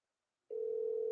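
A single steady telephone tone begins abruptly about halfway through after silence, a pure sustained beep heard over the line after a misdialed call, clear and alone.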